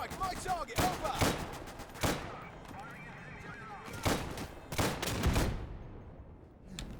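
Gunshots in the Dunkirk update of a war game, loud scattered cracks and bursts ringing out irregularly around a battle on the beach, with voices shouting between the shots.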